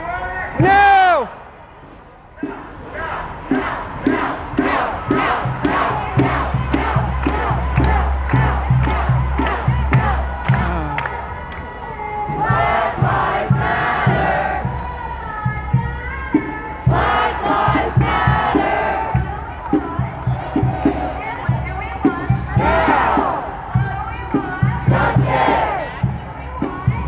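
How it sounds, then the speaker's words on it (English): A street march crowd in Seattle shouts and chants in rhythmic bursts, loud and close, with many voices rising together and cheering over a steady low rumble. "This is the crowd"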